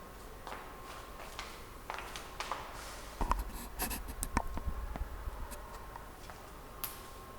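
Hand writing of numbers, close scratchy pen or pencil strokes on paper in short irregular bursts with small taps, fairly quiet and alone.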